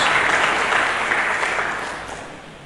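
A congregation claps in a church, broad sustained applause that holds strong and then gradually thins and fades toward the end.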